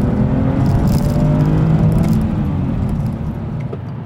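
BMW 630i E63 6 Series with the N52 straight-six and manual gearbox, pulling hard in second gear: a loud, steady engine drone with rising harmonics that eases slightly toward the end, heard from inside the car with no talk.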